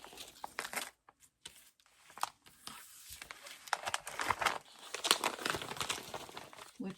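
Strips of cut scrapbook paper gathered and cleared away, close crinkling and rustling in bursts that grow busier and louder toward the end.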